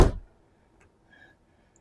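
Car door on a GR Corolla fitted with a TRD door stabilizer, closing in one loud, sharp thunk, followed by faint small clicks as it settles, with no talking.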